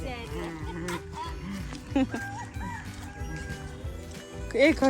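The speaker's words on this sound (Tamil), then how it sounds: "சேவல் கத்து" A rooster crows and clucks on a farm field, its calls rising in short bursts near the middle and end while people talk over it.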